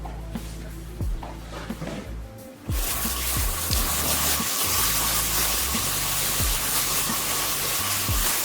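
Running water rinsing something out in a kitchen sink during chili prep, starting as a steady loud gush after a quieter stretch of kitchen clatter and continuing without break.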